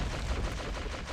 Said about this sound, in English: you can just hear that modified Hotchkiss just pow pow pow